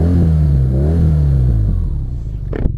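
A BMW R NineT boxer twin runs under a rider, a loud close engine drone whose pitch rises and wavers as it revs, then drops away near the end with a brief clack.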